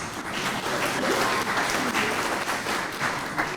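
Banquet audience at a donors appreciation dinner giving a round of applause, a steady, moderately distant patter of many hands clapping throughout.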